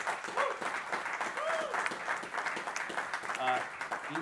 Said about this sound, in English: let's give a big shout out and applause to this panel